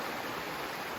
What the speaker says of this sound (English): Oh, the sound of water while I hike.